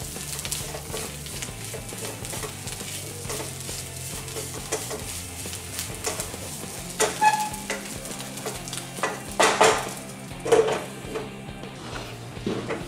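Spiced cauliflower stuffing mixed with gram flour for gobi paratha cooks in a covered pan, giving a soft, continuous sizzle broken by occasional sharp clinks and scraping knocks of utensils.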